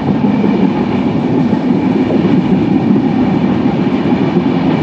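A moving passenger train on the run from Dhaka to Panchagarh roars with a loud, steady rumble of wheels and carriages heard from on board.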